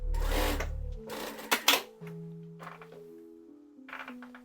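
An industrial sewing machine runs a short burst of stitching and then stops, followed by a few sharp mechanical clicks and a soft tonal hum as the thread is trimmed and the machine settles.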